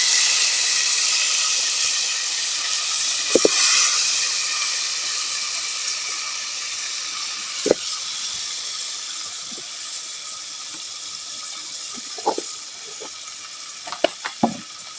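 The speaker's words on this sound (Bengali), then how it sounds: "এবারে যে গরম তেলে মাংস দিয়ে দিলাম" Beef fries in hot oil with cumin in a pot, giving a loud, steady hissing sizzle close by, broken by a few faint clinks and stirring knocks.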